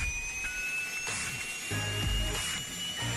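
A Beechcraft King Air 350 turboprop engine spools up after ignition, giving a steady high-pitched whine under a rising rumble, with a few loud surges of airflow close by.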